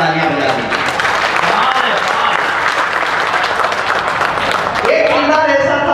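An audience at a Hindi comic poetry recital breaks into loud, steady applause that carries through the whole stretch, with a voice heard over the clapping near the end.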